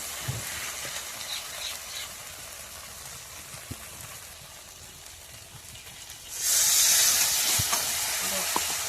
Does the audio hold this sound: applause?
no